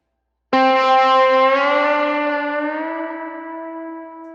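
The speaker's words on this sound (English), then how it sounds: "the Snapshot 1, which is the cleaner tone not used for slide, it doesn't have as much reverb or delay" A single clean electric guitar note or chord rings out from an HX Stomp patch with light reverb and delay, struck sharply and sustaining while slowly fading, played alone.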